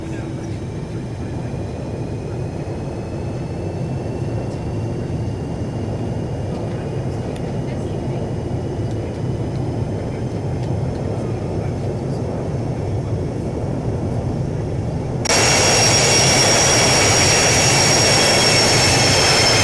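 Jet engines of a Boeing 737-200 with a gravel kit in a flight simulator drone steadily at idle during a power back in Arctic scenery, then swell abruptly louder and brighter as thrust is raised.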